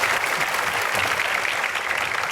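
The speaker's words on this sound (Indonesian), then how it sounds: "Tepuk tangan buat saya ya." Audience clapping steadily at an Indonesian talk show, a dense, even wash of applause held for a couple of seconds with no break.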